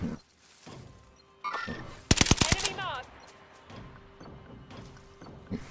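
A quick burst of rapid video-game gunfire cracks out over faint background noise and muffled voices, loud and close for about a second.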